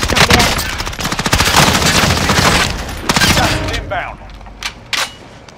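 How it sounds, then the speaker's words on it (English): Heavy sniper and automatic gunfire in a first-person shooter game crackles in rapid, loud volleys, easing after four seconds into a few isolated sharp shots. "I'm getting sniped from behind."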